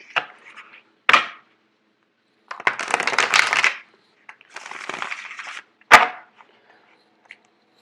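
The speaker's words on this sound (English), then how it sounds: "I'm actually going to do one more shuffle." Tarot cards being shuffled by hand in quiet surroundings, giving several separate bursts of riffling and sliding card noise with short crisp taps between them, close up and with no talking.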